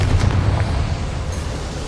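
A Confringo fire spell explodes in Hogwarts Legacy, a loud, deep boom that rumbles at the start and then fades through a sustained roar.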